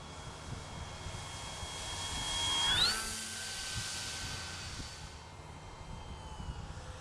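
A Dynam Waco three-cell electric RC biplane cruising past overhead, its motor whine rising as it nears, peaking with a quick pitch drop, then fading away over a soft outdoor background.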